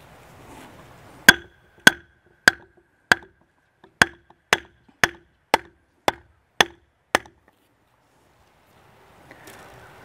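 Ten sharp, evenly spaced hammer taps on wooden wedges during a cabin build in the Ozarks, loud and close, each strike ringing briefly, with quiet room ambience before and after.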